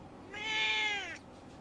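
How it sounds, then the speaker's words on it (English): A house cat gives a single clear, drawn-out meow lasting about a second, close and fairly quiet, with no other sounds around it. "basically the cat learns to meow"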